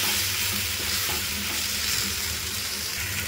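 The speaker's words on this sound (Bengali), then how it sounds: "এখানে আমি লবণ আর হলুদ দিয়ে আবারও একসাথে সবগুলো ভালো করে নাড়াচাড়া করে নেব। দেখো ফুলকপিটা আমার ভাজা ভাজা হয়ে গেছে।" Cauliflower frying with salt and turmeric sizzles steadily in a pan as it is stirred, a loud continuous hiss with faint scraping of the spoon and no talking.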